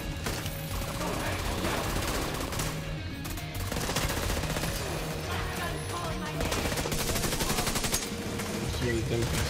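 Sustained automatic gunfire in The Division 2, dense rapid bursts of shots running almost continuously at high volume, with mechanical clatter mixed in.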